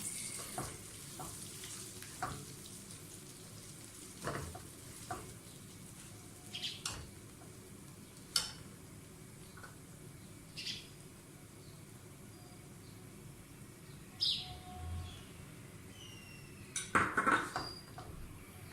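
A spoon stirs chana dal halwa cooked with milk in a pan over low heat, giving soft intermittent scrapes and clinks against the pan over a quiet sizzle, with no talking.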